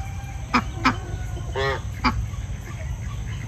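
Pekin and Mallard mix ducks, white and dark multicolored birds, give a few short, fairly close honking quacks, with one longer drawn-out call in the middle, over a low steady outdoor rumble.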